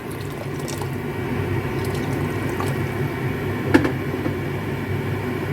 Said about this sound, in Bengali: এবার গ্রেভির জন্য আমি জল দিয়ে দিচ্ছি এখানে আমি পুরোটাই গরম জল অ্যাড করছি